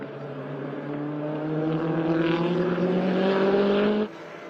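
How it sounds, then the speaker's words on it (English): A turbocharged LS-engined race car lapping a circuit at a time-attack event, its engine holding a steady, rising harmonic drone as it pulls hard, loud and continuous, then dropping off sharply near the end as it passes or lifts. "keep an ear out for that Turbo LS. We're going to let that thing sing."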